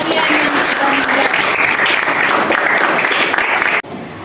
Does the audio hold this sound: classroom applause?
yes